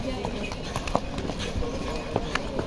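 Horse hooves clip-clopping on the Kedarnath mountain pilgrimage path, a steady run of close hoof strikes over continuous crowd and ambient noise.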